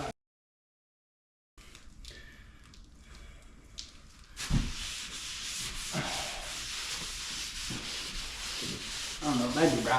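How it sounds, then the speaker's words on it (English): Dried drywall joint compound being sanded by hand gives a continuous close scratchy rubbing, louder and rougher in the second half with repeated strokes, after a short silence and quieter scraping at the start. "But so you get it all sanded."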